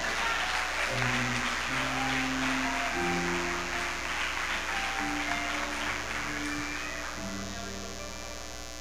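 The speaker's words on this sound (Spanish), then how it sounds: "Suelten un aplauso a Dios." A church congregation applauding, a sustained wash of many hands clapping over a steady background hum, fading gradually toward the end.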